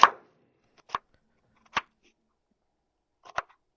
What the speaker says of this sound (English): Okay, now I am cutting the onions.